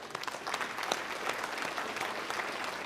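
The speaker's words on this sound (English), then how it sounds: "Why don't you give yourselves a round of applause?" An evening gathering of young farmers and ranchers applauds themselves, a fairly faint, steady patter of many hands clapping at a distance with no talk over it.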